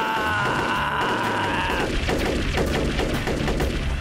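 Cartoon gunfire sound effect: a rapid burst of repeated shots rattles loudly through the second half, following a sustained electronic tone, with no talking over it.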